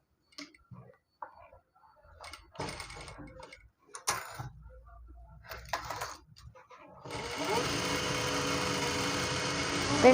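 A sewing machine stitches a gathered pant, running in a steady loud burst over the last few seconds after scattered handling clicks, taps and brief quiet moments.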